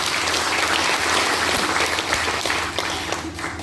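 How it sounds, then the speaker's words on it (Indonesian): Loud, sustained applause from a crowd in a pub, dense and close, holding steady before easing slightly at the end. "Tepuk tangan buat dia."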